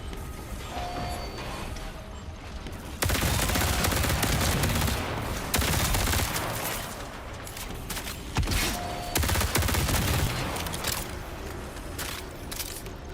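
Gunfire from shooting bots in the video game Marathon comes in dense, loud bursts of rapid shots, broken by short gaps between volleys, with no talking.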